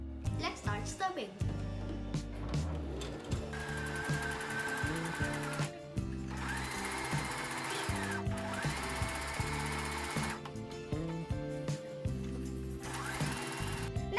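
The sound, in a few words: sewing machine stitching fabric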